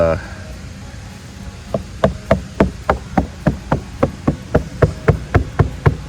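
Knuckle taps on a hollow fiberglass pool step, where the sand backfill underneath has washed out, give a close, even series of about fifteen dull knocks at a steady rhythm.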